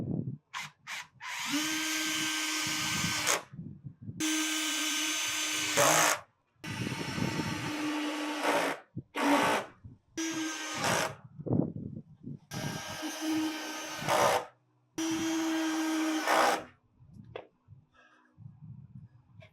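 A power drill drives screws into deck boards for a hot tub deck, in repeated loud whirring bursts of a few seconds each separated by brief silences, with a few short clunks between runs.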